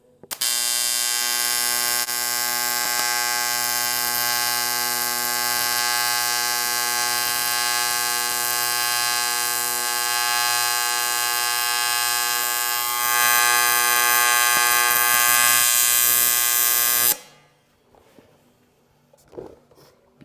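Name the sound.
AC TIG welder welding a puddle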